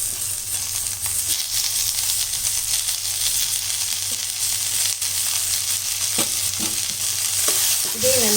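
Chopped tomatoes and onions fry and sizzle in a pan for drumstick thokku, a steady close hiss with stirring scrapes throughout and no talking.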